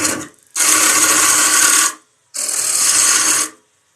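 A wood lathe gouge slices cleanly into spinning wood in two loud, sustained hissing cuts of about a second and a half each, separated by a short silent gap.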